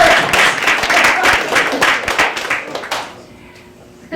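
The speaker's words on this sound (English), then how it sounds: "How many people here, just by applause, how many people here are not Canadian?" A comedy club audience bursts into loud, dense clapping for about three seconds, then it quickly thins out to near quiet before a voice begins.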